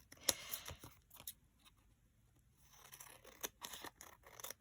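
Scissors snipping through a junk-mail paper envelope, soft, close crisp cuts in scattered bursts with quiet pauses between, no talking.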